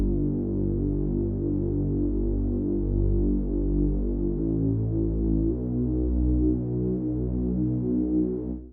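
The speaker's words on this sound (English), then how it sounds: "For the Moog bass, I'm using Logic's stock ES2 synthesizer plugin." A Moog-style bass synth patch built in Logic's stock ES2 synthesizer plays a deep, sustained, droning bassline with smooth note changes, steady and full throughout, alone with no voices.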